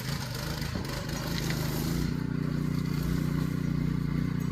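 A go-kart fitted with a Honda GX160 engine and 2:1 reduction gearbox runs and drives, its small single-cylinder engine droning steadily and loudly up close, with the rumble deepening and settling into a continuous hum partway through.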